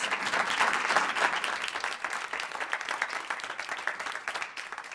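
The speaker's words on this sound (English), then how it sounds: "You all clap your hands for Damianti Wallace." An audience applauds at a scholarship event honouring a young poet, dense clapping with some crowd noise, loud at first and then gradually thinning out.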